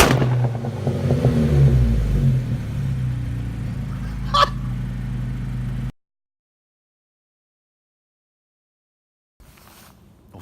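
A Volkswagen MK7 GTI engine revs on a dyno, a loud roar with a sharp clatter partway through, then a sudden cut to silence and a brief faint sound at the end.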